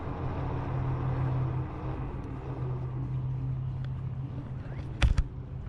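A Varla Eagle One 52v electric scooter climbs a steep off-road hill. Its motor holds a steady, droning hum beneath continuous wind rumble, and a couple of sharp knocks come close together near the end.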